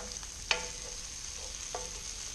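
Onions and peppers softening in a pan as they are stirred, a faint steady sizzle underneath with a couple of soft scraping stirs, quiet and close.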